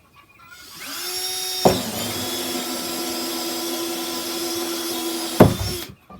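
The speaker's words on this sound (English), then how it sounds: "we've switched to our small hole saw, and we're gonna come down and drill the spigot hole first" A power drill spins up and whines steadily as a small hole saw cuts a spigot hole through a plastic rain barrel, with a sharp clunk as it bites in and another as it breaks through.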